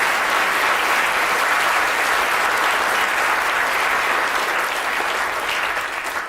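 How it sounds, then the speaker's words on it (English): Sustained audience applause for a volunteer at a science demonstration, a thick, even roar of many clapping hands lasting over six seconds and tapering a little at the close. "Give Laura a round of applause for wearing this apparatus there."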